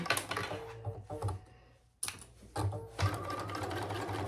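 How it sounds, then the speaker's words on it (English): A sewing machine back stitches over elastic in short close bursts of rapid mechanical whirring, pausing briefly between runs, with no talk. "I'm going to go back stitch over it to give it a little more stability"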